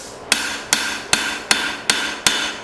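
Six evenly spaced, ringing hammer blows strike hot steel on an anvil while an old file is forged into a knife, each sharp clang followed by a short decaying ring.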